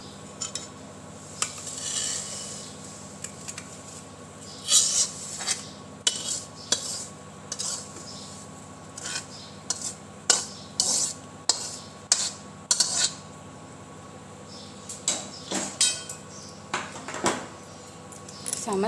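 Sweet ghughara filling mix is scooped and scraped from a pan into a dish, with repeated metallic clinks and scrapes of a spoon against cookware in irregular bursts and quiet pauses between them.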